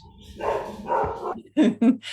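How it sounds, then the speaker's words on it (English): A dog barks twice in quick, sharp bursts near the end, close and fairly loud, right after a stretch of someone talking. "My dog's going to start barking to talk to yours"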